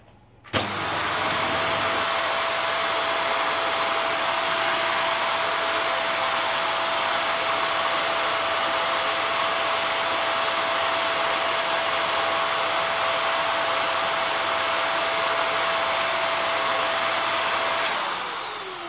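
A vacuum cleaner with an extension hose attached runs steadily and loudly for about seventeen seconds, a constant broadband roar with a high whine, starting abruptly and winding down at the end.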